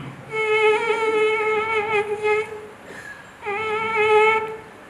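A performer at a state school arts festival mimicry act imitates mosquitoes buzzing in Kochi, giving a thin, high, wavering whine in two bursts with a short gap between them, with no talking.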